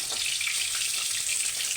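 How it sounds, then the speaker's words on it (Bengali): Pieces of bhangor fish sizzle steadily in hot oil in a pan while being fried and turned, a close, even crackle with no voices. "মাছগুলো হালকা ভাজা হবে এরকম পাল্টে পাল্টে দিতে হবে"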